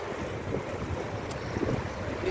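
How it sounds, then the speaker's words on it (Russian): A cold outdoor breeze blows as a steady, broad whoosh of wind buffeting the microphone, continuous and fairly loud with no talking. "Хороший ветерок, да?"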